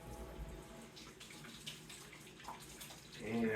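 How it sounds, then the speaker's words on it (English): Running tap water while hands are washed at a sink makes a soft, steady flow with some splashing, fairly quiet and close, swelling slightly louder near the end. "So let's wash our hands here."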